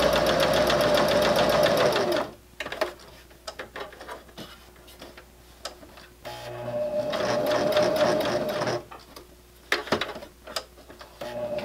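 A sewing machine stitches fabric for a beginner wristlet keychain, running in two steady buzzing bursts separated by pauses filled with small clicks and handling noises.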